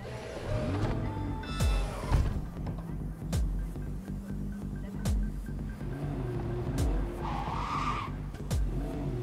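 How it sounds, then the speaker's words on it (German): Car driving and skidding in the video game Cyberpunk 2077, with engine drone and repeated tire screeches across the stretch, fairly loud and up close, with no talking over it. "Wir werden mal Auto fahren."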